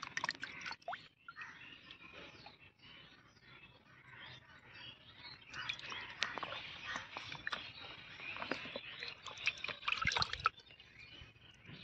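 Water drained off boiled eggs in a pot, a steady soft trickle and splash with dripping, fairly quiet and continuous, with louder wet pouring bursts toward the end.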